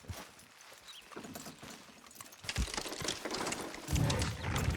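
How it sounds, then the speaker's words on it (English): Horses in Red Dead Redemption 2 strain to pull a load down, their hooves clip-clopping over faint mechanical creaks; the sound starts quiet and grows louder and denser toward the end. "Horses will pull it clean down."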